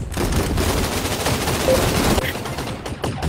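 Dense, continuous automatic gunfire from a shooter video game, loud and steady for most of the stretch before briefly thinning near the end.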